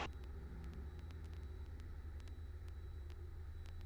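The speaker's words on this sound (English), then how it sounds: "Power is available for takeoff, showing 2400 RPMs." A small airplane's engine runs at takeoff power near 2400 RPM, a steady loud low droning rumble heard from inside the cabin, continuous with no voices.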